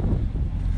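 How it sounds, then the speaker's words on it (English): Loud, rumbling wind buffets the microphone in continuous low gusts, with no other sounds clearly audible. "I know it's windy out here"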